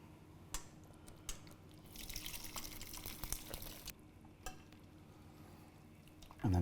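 Cooking liquid from a pan of mince and vegetables for a cottage pie is poured off in a soft, close trickle lasting a few seconds, with faint drips and a knock at the end.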